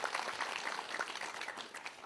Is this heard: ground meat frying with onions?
no